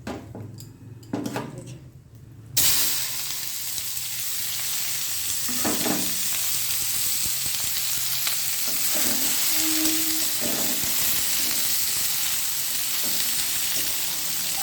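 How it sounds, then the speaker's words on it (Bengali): Chopped onions dropped into hot oil with reddened cumin seeds burst into a loud, continuous sizzle after a quieter start, with a few spatula scrapes and clinks against the pan as the frying carries on steadily. "জিরেটা যখন একটু লাল লাল করে ভাজা হলো, তার মধ্যে আমি কতগুলো পেঁয়াজ কেটে রেখেছিলাম, এই পেঁয়াজগুলো দিয়ে দিলাম"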